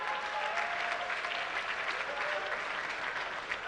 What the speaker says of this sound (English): Another round of applause for Tepa Senior High School.